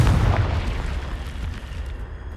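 A Confringo blasting spell detonates in the video game Hogwarts Legacy, a loud, heavy boom with a deep low rumble that rolls on and slowly fades over a couple of seconds.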